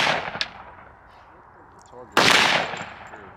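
Guns are fired outdoors: one sharp shot rings out early, then after a quiet stretch a much louder blast or burst booms and its echo slowly fades.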